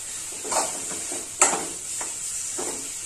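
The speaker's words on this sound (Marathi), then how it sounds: "पण माझ्या मुलाला हे फोडणीचं आवडतं त्यामुळे मी भाजल्यानंतर त्याला फोडणी दिली" Soft sizzling of a hot tempering (phodni) over roasted brinjal bharit, with a few brief scraping stirs and one sharp louder clink, close and fairly quiet, no talking.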